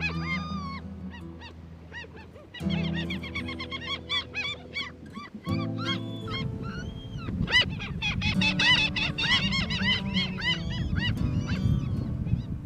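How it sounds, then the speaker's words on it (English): Seagulls call at a fishing harbour in Aveiro, Portugal, where fishermen clean and fillet their catch. Loud, close cries repeat and overlap, building into a fuller, busier chorus in the second half. "Seagulls appreciate the bounty that cleaning and filleting fish produces."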